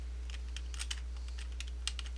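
Typing on a computer keyboard, quiet irregular clusters of light key clicks over a steady low electrical hum, no voices.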